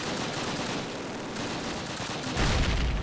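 Gunfire in the video game Call of Duty 4, a dense, continuous burst of shots that grows louder and heavier near the end, with no speech.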